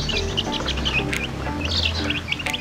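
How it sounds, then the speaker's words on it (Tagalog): A brood of young chicks kept outdoors in the sun chirp continuously in high, overlapping peeps, fairly close and steady, with no voices over them. "Ito yung mga sisi natin na inaalagaan."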